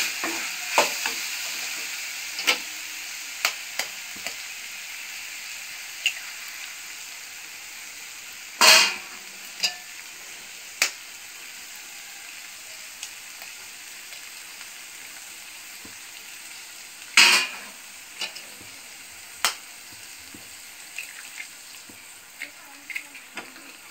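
Egg stir-fries with cauliflower in a pan, with a low steady sizzle punctuated by sharp taps and scrapes of a spatula at irregular intervals, including two louder clatters, close and with no one talking.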